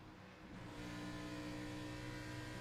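Race car engine in a racing video game holding a steady drone with layered harmonic tones, rising slightly in level as throttle eases around a corner, continuous and close with no talk.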